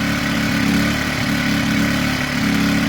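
A Generac 1200-watt portable inverter generator runs steadily at close range, its small engine giving a loud, even drone with no pauses and no voices.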